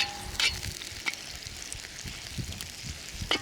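Onion sizzles quietly and steadily in a hot pan as it browns for Crimean Tatar shepherd's soup, with a few light clicks of stirring.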